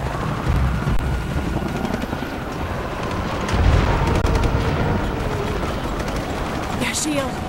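A helicopter's rotor thrum in Shadow of the Tomb Raider fills the scene alongside rumbling booms and distant gunfire, with a brief swell in the middle.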